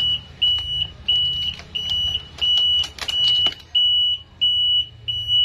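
A Honda Beat Deluxe's anti-theft security alarm buzzer beeps in a steady, rapid repeating pattern of short high tones, close and clear, over a low background hum with the ignition switched off.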